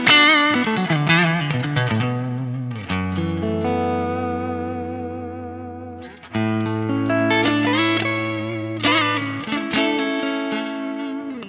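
Clean electric guitar tone through a Quad Cortex modeler with no overdrive engaged, sustained chords and melodic lines ringing out with a light effects wash and reverb tail, played alone without talk.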